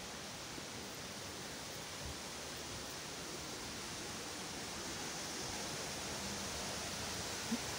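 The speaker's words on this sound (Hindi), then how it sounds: "ये देखिए वाटरफॉल, ये रहा।" Waterfall seen from the rooftop of a temple building, giving a constant broadband rush of falling water at moderate distance, steady and unbroken for about eight seconds with no voices.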